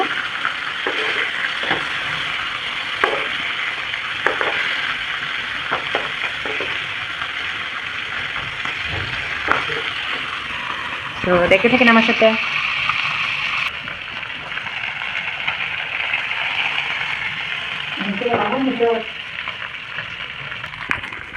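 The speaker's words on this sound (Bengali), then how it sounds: "তো উল্টে আবার ভালো মতন ভেজে নেব" Fish frying in a pan for a pumpkin and water-leaf fish curry, a steady sizzle and hiss with scraping and stirring bursts as pieces are turned, while someone talks over it.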